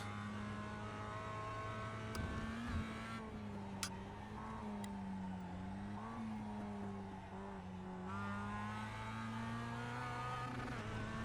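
Mazda MX5 engine in a racing-simulator lap of Jefferson, droning steadily at high revs with pitch rising and falling through shifts and corners, plus a few sharp clicks.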